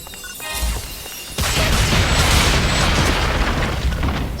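Frozen objects blow up in the PSO2 video game with a loud, sustained booming blast that swells abruptly and holds, noisy crackling debris filling the mix with no talking.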